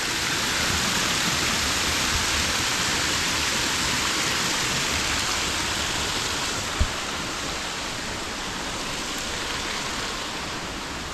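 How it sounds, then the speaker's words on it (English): A small waterfall on the Almeria coast, about ten metres high, pours into a pool below. It makes a steady, even rush of falling water with no voices. "A lovely little waterfall here."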